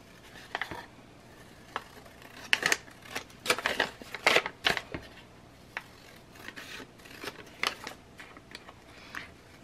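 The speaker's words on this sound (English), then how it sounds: "I'm gonna finish trimming this out really quick" Scissors trimming a printed paper insert from an inkjet printer, a run of close, crisp snips and paper rubs coming in irregular bursts, with no talking.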